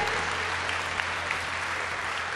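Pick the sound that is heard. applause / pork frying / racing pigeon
applause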